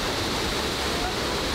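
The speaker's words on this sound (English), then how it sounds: "So you can hear the sound of the waterfall here." Steady, full rush of a waterfall beside a salmon stream near Juneau, Alaska, a continuous broadband roar heard close and loud without pause.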